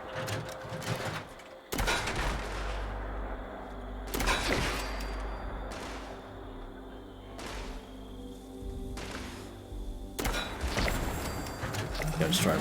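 Gunshots ring out in the video game Fallout 76, several sharp loud blasts at irregular intervals over a bed of game ambience and mechanical clunks, with a voice talking in between.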